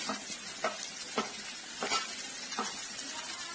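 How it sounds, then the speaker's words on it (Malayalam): Onions sautéing in an oiled pan for chicken masala, a soft steady sizzle with a few scraping stirs of the spoon at intervals, close and fairly quiet. "ആദ്യം ഉള്ളിയിട്ട് വഴറ്റുക"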